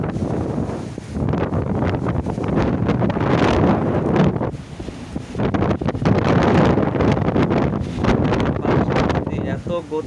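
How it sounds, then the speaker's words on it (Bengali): Strong gusts from Cyclone Remal roar and buffet the microphone in surging waves, easing briefly before picking up again, with voices partly heard beneath. "এত গতি বাতাসের"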